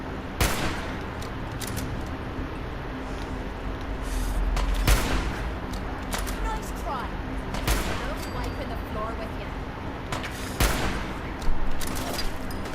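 Repeated bursts of gunfire from the video game Fallout 4, sharp cracks spaced irregularly over a steady low background hum, fairly quiet overall with a voice talking in between shots.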